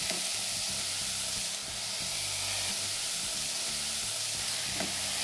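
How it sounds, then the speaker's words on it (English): Vegetables and vegan sausage sizzling and frying in a pan, with a dense, steady crackle and hiss and occasional stirring scrapes, close and continuous, with no talking. "our veggies are crisping up and cooking down"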